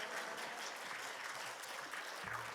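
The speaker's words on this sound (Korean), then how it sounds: "할렐루야로 하나님께 영광의 박수를 드립니다" A church congregation at a Full Gospel prayer-retreat service claps in sustained, steady applause that fills the whole stretch at an even, fairly loud level.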